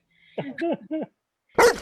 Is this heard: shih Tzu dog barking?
yes